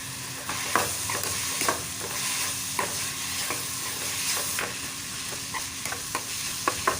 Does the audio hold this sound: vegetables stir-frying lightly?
yes